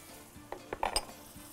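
A spoon clinks and scrapes against a pan while sausage and garlic are stirred, giving a few light metallic taps close by over a quiet, faint sizzle.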